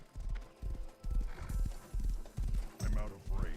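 Horse hooves clip-clop in a crafting video game, a steady run of loud, close thuds falling roughly twice a second alongside other game sounds.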